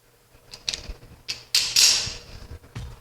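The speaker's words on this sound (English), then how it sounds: "Clamp this into position, sort of." Wood is clamped into position on a kayak, giving a run of close, dry creaks and ratcheting clicks in short irregular bursts with a couple of louder squeaky rasps, no talking.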